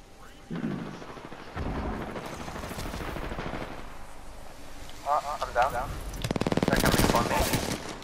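Rapid video game gunfire from Apex Legends-style combat with Wraith, with loud automatic bursts and several shots building to a dense rattling volley near the end, mixed with someone talking over it.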